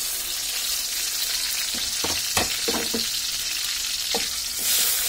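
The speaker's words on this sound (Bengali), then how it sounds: "এখন আমি এর মধ্যে কিছু পরিমাণ পেঁয়াজ কুচি দিয়ে দিব।" Chopped onions frying in hot oil in a pan for a broiler chicken curry, a steady hissing sizzle throughout with a few close knocks and scrapes of a spoon stirring, no voices.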